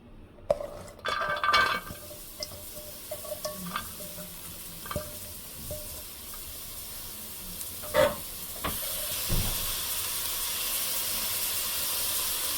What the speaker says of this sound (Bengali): এখানে পেঁয়াজ দিয়ে দিলাম